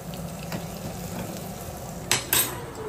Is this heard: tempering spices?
yes